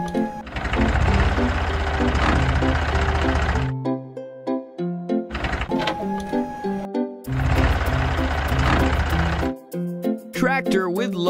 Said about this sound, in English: Tractor with baler.